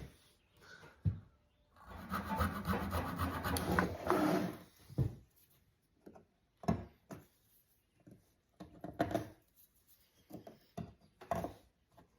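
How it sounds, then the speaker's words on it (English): Wooden dowels are cut to four inches with an older hand tool, heard as a sustained rasping stroke followed by a series of short, separate scraping and knocking bursts, close and fairly quiet. "I'm going to cut these dowels at 4 inches."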